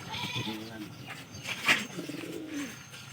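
Pigeons coo indoors in low, rolling throaty calls, two or three bursts close by, with some faint rustling in between.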